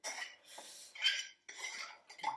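Stirring organic strong white bread flour in a mixing bowl while making sourdough bread, heard as dry scraping and clinking bursts of the spoon against the bowl in several short strokes with brief pauses between them.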